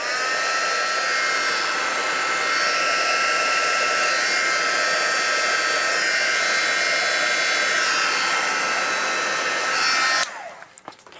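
A heat tool blows continuously to melt embossing powder, a loud, steady whirring rush of air lasting about ten seconds before switching off, followed by faint handling sounds.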